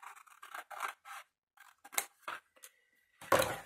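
Large scissors cutting straight lines through paper for a scrapbooking document box, a series of crisp snips and slicing strokes, close and clear in an otherwise quiet room with no talking.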